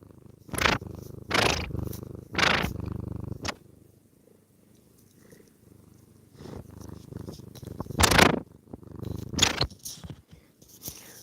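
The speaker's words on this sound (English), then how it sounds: "he only purrs when he's awake" A cat purrs steadily and close, the rumble swelling and fading with each breath, with a few louder rustly bursts in between.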